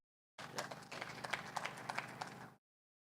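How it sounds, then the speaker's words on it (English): Audience applause at a summit, a steady burst of many hands clapping for about two seconds, moderately distant in a hall, starting and stopping abruptly. "Please give him another round of applause."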